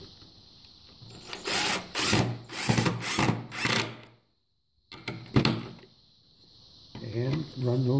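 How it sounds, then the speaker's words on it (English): A power drill drives screws into a wooden bench in several short, loud, whining bursts, with pauses between them and a final brief run, while a person speaks near the end. "And run those screws in"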